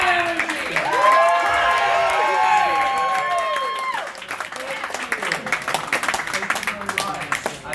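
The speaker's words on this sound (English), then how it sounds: "Can we get a round of applause for JP?" Audience applause and cheering for JP, a congressional candidate at a CPAC political conference, loud and sustained from the start and thinning to scattered claps toward the end.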